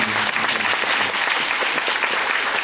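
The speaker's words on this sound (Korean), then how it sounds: "다시 한번 큰 박수" A theatre audience applauds at the final curtain call of a musical: dense, steady clapping from a large crowd filling the room, with faint voices underneath.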